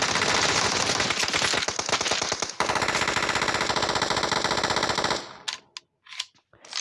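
Rapid automatic gunfire from a shooting video game, loud dense bursts of shots for about five seconds, then a few sparse, sharp shots with quiet gaps.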